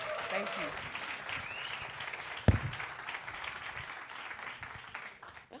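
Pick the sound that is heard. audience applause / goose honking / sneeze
audience applause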